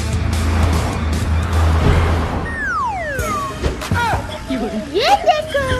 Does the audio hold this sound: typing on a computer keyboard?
no